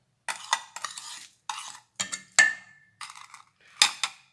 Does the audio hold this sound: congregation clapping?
no